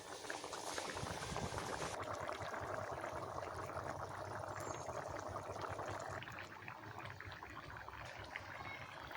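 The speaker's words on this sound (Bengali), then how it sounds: "ফুলকপি আলু ডিমগুলো কেমন ফুটছে" A pot of cauliflower, potato and fried whole egg curry boils steadily in a village kitchen with a dense, continuous bubbling and gurgling, close and even throughout.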